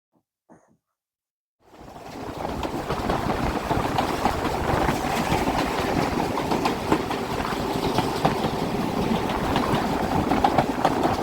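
Steam locomotive 257 Squadron, number 34072, runs on the Spa Valley Railway from Eridge toward Tunbridge Wells West, a steady, broad rumble that starts abruptly after a short quiet and holds at an even level.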